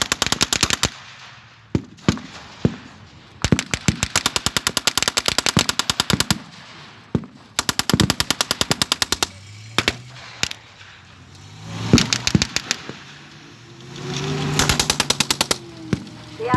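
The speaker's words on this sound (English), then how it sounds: "the Germans have waited until the last possible moment, and then open fire on the enemy" German machine-gun fire on Allied troops in a Second World War battle re-enactment: long, rapid automatic bursts alternating with isolated single shots, loud and close, with rumbling vehicle or explosion noise between volleys.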